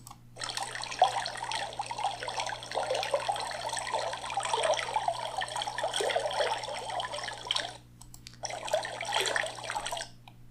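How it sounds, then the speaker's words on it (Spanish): Running water flows and splashes steadily like a filling sink or tap, a continuous rushing stream that briefly stops near the end and then resumes. "voy a traer un archivo de audio, que en este caso es sobre el agua"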